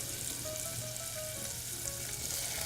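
Shallots cook in melted butter in a pan over lowered heat, giving a soft, steady sizzle that holds evenly throughout with no talking.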